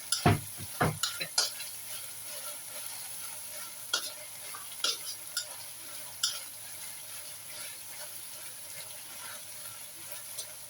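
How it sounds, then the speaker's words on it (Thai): Pork belly stir-fried in a pan for a shrimp-paste morning glory dish, with a steady faint sizzle broken by a few sharp scraping stirs early on and occasional spatula knocks. "ใส่หมูสามชั้นลงไปผัดจ้"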